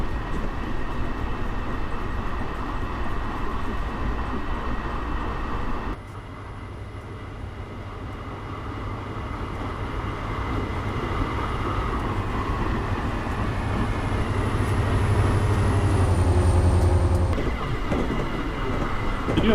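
A train rolls past in the Trainz Simulator game on a Metrolink and Amtrak Los Angeles run, a steady broadband rumble with a high whine, swelling louder toward the end as it passes close by.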